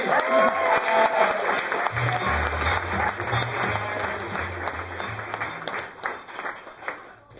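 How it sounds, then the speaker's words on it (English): An audience claps and cheers at a comedy night as a performer is brought on stage, a dense, loud wash of applause running throughout and thinning slightly toward the end. "you got to start clapping, start cheering"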